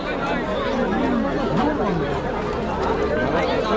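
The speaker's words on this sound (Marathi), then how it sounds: "आता थोडी थोडी गर्दी वाढायला लागली." Steady crowd babble fills a village temple fair procession in Konkan, many overlapping voices at close range forming a continuous hubbub without pauses.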